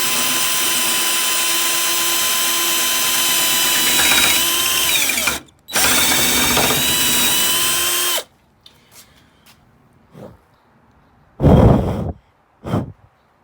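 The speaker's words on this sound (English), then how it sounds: "this is only our second drill bit, so we can go really fast" A power drill whines steadily and loudly boring a hole through a Dodge Neon's hood, with a brief stop partway through, then cuts out, leaving a few short scrapes and clunks.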